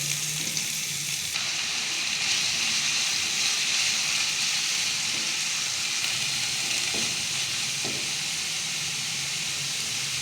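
Amaranth spinach greens, drained of water, fry in a pan with sautéed garlic and onion, giving a steady, close hiss and sizzle with a couple of brief clinks or stirs near the end.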